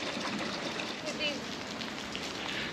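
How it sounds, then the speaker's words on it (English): Steady rain hisses down outdoors near a dock, a continuous even wash of drops at moderate loudness, with faint voices underneath. "Coming in the rain."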